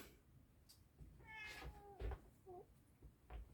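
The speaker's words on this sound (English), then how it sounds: "There's the cat." A house cat meows two or three times in a quiet room, a drawn-out wavering call followed by a shorter chirp, soft and fairly near, with light knocks and shuffling around it.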